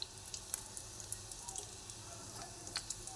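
Fish kofta frying in oil in a pan, a faint, steady sizzle with small crackles and pops scattered throughout.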